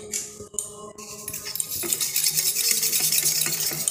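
A spoon stirs sugar and a little salt together in a bowl while making Tibetan bread, giving close, repeated scraping clinks and light taps against the bowl with no voices.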